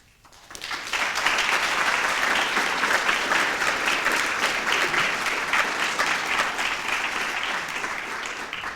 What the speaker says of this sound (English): I think we just did that with that applause